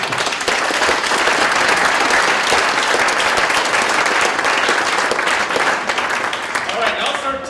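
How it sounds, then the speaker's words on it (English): Audience applause at an arts council awards event, a dense, sustained clapping from a large crowd, loud and close, tapering slightly at the end. "So one more round of applause for Sestry."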